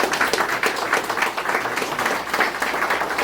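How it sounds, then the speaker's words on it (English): A crowd applauding steadily at a career signing day, dense clapping filling the space at a constant loud level throughout. "So give her a round of applause."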